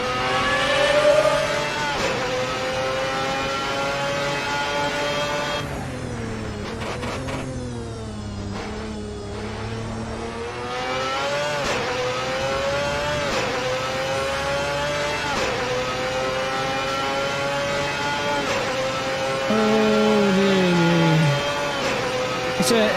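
Race car engine in the Assetto Corsa racing game heard from an exterior view on soft tyres, revving and shifting through gears with rising and falling pitch sweeps, a loud continuous whine with a brief dip midway.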